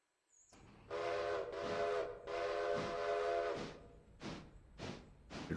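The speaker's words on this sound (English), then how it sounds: "should really whistle before we take off" A steam locomotive whistle blows in the railroad simulation game Railroader: a few long, loud, sustained blasts, then shorter toots that fade into an engine hiss.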